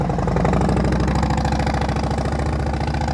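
A motorcycle engine during slow-speed riding practice, rumbling steadily with a fast, even pulsing beat as throttle is applied, close and loud, with no talking.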